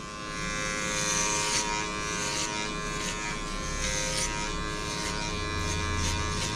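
Electric hair clippers run near the head during a straight-hair haircut, making a continuous close buzzing drone that stays steady for several seconds, with faint shifts as the blades move along the hairline and no speech.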